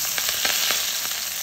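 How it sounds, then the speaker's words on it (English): Onion, garlic and fresh herbs sizzle briefly in a heavy saucepan, a steady close hiss with small crackling pops. "So I'm going to add in my onion, my garlic, and all my fresh herbs. We're going to give it a quick saute."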